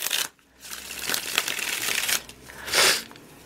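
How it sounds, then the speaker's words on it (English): Tarot cards shuffled by hand close up, with quick riffling bursts of flicking paper, a short pause, then another burst and a final riffle, no talk over it. "One more shuffle."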